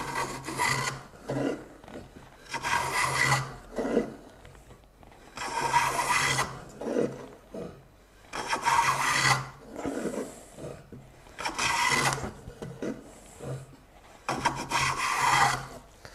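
A hand plane shaves an uneven wooden board in repeated rasping strokes, about a dozen, each a loud close scrape of blade on wood with short gaps between, steady in rhythm.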